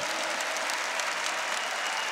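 Audience at a Catholic prayer gathering applauds, a dense, sustained sheet of many hands clapping at steady volume with faint crowd murmur underneath.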